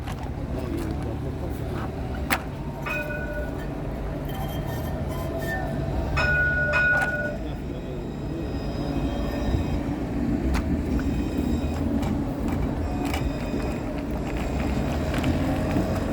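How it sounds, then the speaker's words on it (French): A tram rolls down a street in Paris's 19th arrondissement near La Villette, producing a steady, continuous rumble with faint squeals and rattles over a dense urban background for the full length. "Attention, le tramway, un tramway peut en cacher un autre."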